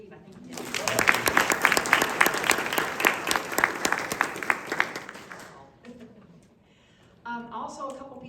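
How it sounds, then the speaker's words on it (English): A room full of people at a RISD candidate forum breaks into loud, sustained applause for Steve, clapping densely for several seconds before it dies away and a voice resumes speaking. "let's give a big round of applause to Steve"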